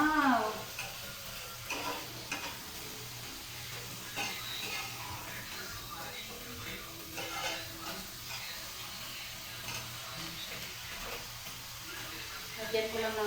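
Shrimp and cabbage frying in butter in a pan, a steady sizzle with stirring scrapes running throughout, while people talk over it.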